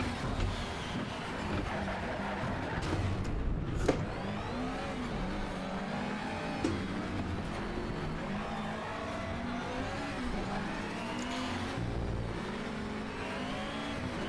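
An Alfa Romeo 8C Competizione engine revs hard and shifts up through its gears in the racing game Need for Speed Shift 2, with rising and falling pitch sweeps, brief gear-change breaks and tire noise over a continuous roaring drone.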